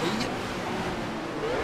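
The engine of a Honda S800 RSC in the Assetto Corsa racing game drones at steady revs with a faint rising tone, and a voice talks over it.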